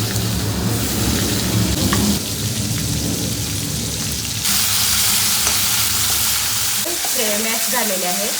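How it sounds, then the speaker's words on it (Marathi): Mustard seeds dropped into hot oil for stuffed brinjal, a loud, steady sizzling and crackling hiss that runs throughout with no pause. "तेल गरम झाले तर आपण मोहरी टाकतो"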